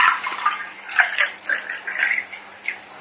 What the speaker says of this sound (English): We fill the glass tumbler with water up to the brim.